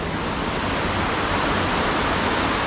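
Stream of water rushing near a rock temple at Loteshwar in Konkan, a dense continuous hiss of flowing water, steady and close, with no other sounds.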